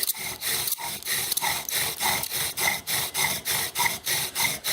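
A short bow saws back and forth to spin a thick wooden spindle in a bow drill, a rhythmic, even series of close rasping strokes, about three per second, with no talking.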